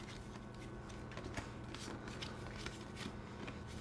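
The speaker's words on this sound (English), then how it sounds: "I can't even shuffle through these cards." A stack of Pokemon trading cards is shuffled by hand, giving a soft continuous riffling and rustling with small flicks, fairly quiet and close.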